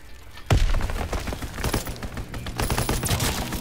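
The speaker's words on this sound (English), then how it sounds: "Strafing run inbound." An aircraft strafing run in Call of Duty WWII multiplayer opens with a heavy boom, then a loud, sustained rattle of rapid gunfire and impacts over several seconds.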